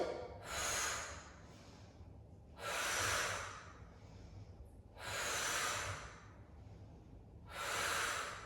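Four long, deep breaths spaced evenly a couple of seconds apart, each a broad airy rush lasting about a second, taken during a floor-based abdominal strengthening and back-care workout, close and clear with no talking.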